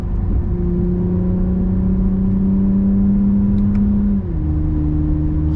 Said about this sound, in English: Downshift to third. Hold me in third around this bend.